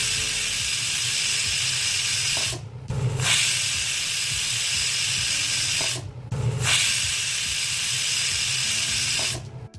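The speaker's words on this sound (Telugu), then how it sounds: "ఇప్పుడు కుక్కర్ మూతను పెట్టి 3 విజిల్స్ వచ్చే వరకు" A pressure cooker on the stove, cooking potato, fenugreek and tomato curry, hisses loudly and steadily with steam. The hissing comes in long bursts broken by brief pauses roughly every three and a half seconds.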